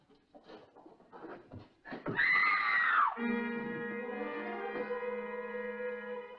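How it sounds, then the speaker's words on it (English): A woman lets out a shrill, wavering scream in an old Western drama, rising out of faint murmuring and rustling, then giving way to a sustained tonal drone that holds to the end. "We heard a woman scream."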